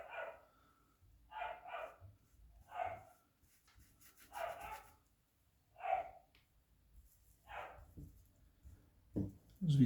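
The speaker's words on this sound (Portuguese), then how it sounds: "Os vizinhos aqui tem bastante cachorro." Neighbours' dogs barking somewhere nearby, a faint, fairly distant series of about seven single and double barks at uneven intervals over a quiet background.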